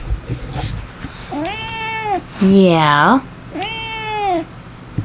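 A cat meows three times up close, drawn-out and insistent calls with short gaps between them, while a person briefly speaks nearby.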